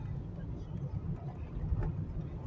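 A 1999 Toyota Camry with 217,000 miles cruising gently, its engine a low, steady, muffled hum with road rumble and no sharp revving.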